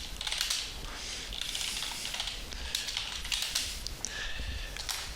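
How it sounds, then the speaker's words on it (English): Someone types on a computer keyboard at a desk, producing continuous bursts of light, quick key clicks with short pauses and a few louder taps, close by with no talk. "I can get rid of all of that and then start typing"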